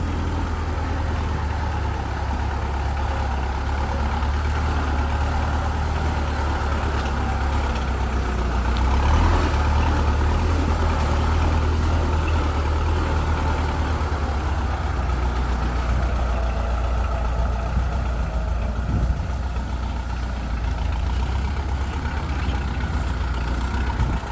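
A Kubota L2602DT four-cylinder, 26-horsepower used tractor idles with a steady, loud, low diesel rumble that holds evenly throughout and swells slightly for a few seconds midway, with no talking.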